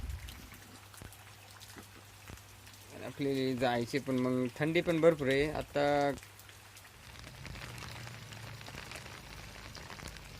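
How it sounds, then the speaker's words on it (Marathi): Heavy rain falls over rice paddy fields and nearby hills, making a steady wash of hiss throughout. Someone speaks briefly in the middle, over the downpour. "पाऊस आता भरपूर असा प्रमाणात चालू आहे"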